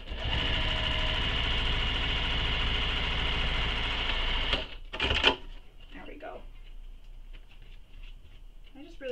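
A sewing machine drones steadily while backstitching a crossbody bag, then stops about halfway through. Soft handling clicks and rustles follow at close range.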